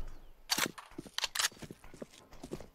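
Gunfire in Counter-Strike 2: several sharp, loud gunshot cracks close together in quick bursts, ending with a few softer shots and clicks, with no talk.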